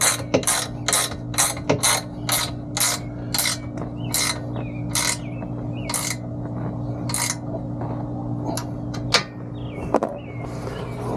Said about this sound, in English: These bolts take a 1/2-inch wrench.